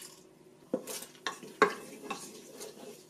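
Whole spices drop into hot oil in a Crock Pot Express multi cooker on sauté mode and sizzle softly, with a few sharp clinks and stirring knocks from a utensil against the pot.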